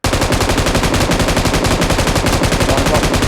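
A DP machine gun in PUBG Mobile fires a loud, close, sustained burst of rapid automatic shots, evenly spaced and unbroken for over three seconds.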